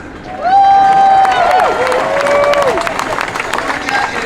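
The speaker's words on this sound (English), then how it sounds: "so give him a round of applause" Crowd at a rally cheers and applauds, with loud sustained whoops and shouts over a patter of clapping that continues and thins toward the end.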